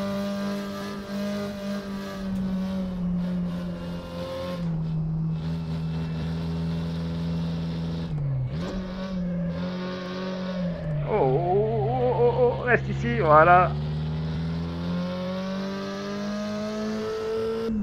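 Porsche 356 Coupé engine in a racing video game, a steady low drone that rises and falls with throttle, dipping around a shift and climbing into a wavering, revving surge while the car drifts; a voice speaks briefly over it.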